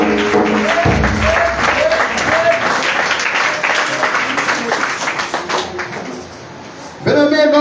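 A church congregation at a worship service applauds loudly and continuously, with voices calling out over the clapping, which drops briefly near the end before a voice cuts in.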